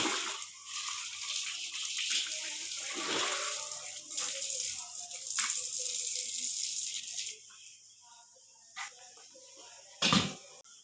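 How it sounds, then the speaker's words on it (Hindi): Water left from washing dishes is poured out in a home, splashing and gushing for several seconds with rattling clatter, then a brief quieter lull before a final sudden splash near the end. "यहाँ पे गिराएंगे पानी।"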